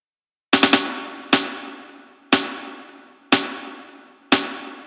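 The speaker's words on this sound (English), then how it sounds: "So here's something like your snare." A thick, sustained snare sample from FL Studio, first struck as a quick flam of three hits, then repeated alone about once a second, each hit loud with a long ringing decay.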